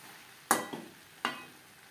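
Boiled potatoes and drumsticks stirred in a hot pan over high-to-medium flame: two crisp scraping stirs about three-quarters of a second apart over a soft, steady sizzle, with no voices.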